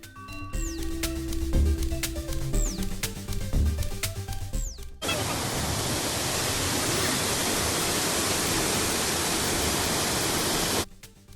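A loud, steady roar of falling water from Kuntala Waterfalls in Adilabad, Telangana, fills the air, broad and unbroken, after a few seconds of clattering and a faint voice beforehand.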